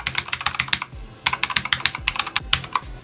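Rapid clacking keystrokes on an RGB mechanical gaming keyboard, close and crisp, in uneven bursts with a brief pause, no voices.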